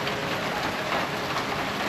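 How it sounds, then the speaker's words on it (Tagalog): Steady rain hisses down in an even, continuous wash of noise, moderately faint, with no voices. "Walang tumigil yung ulan."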